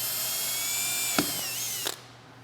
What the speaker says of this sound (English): Just take the grease zerk out and just drill a hole.